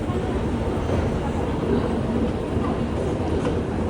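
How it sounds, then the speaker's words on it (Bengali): A train at a railway station gives a steady, loud rumble of rolling wagons with faint clattering throughout, close by and continuous, with some background voices mixed in. "রেল স্টেশনে যাচ্ছি, গিয়ে ট্রেন ধরবো"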